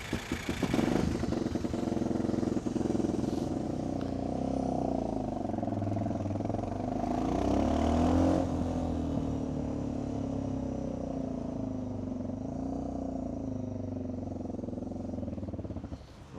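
A Suzuki adventure motorcycle on a February trip in Spain and Portugal, its engine running steadily with a rev rise in the middle, close, under faint clatter.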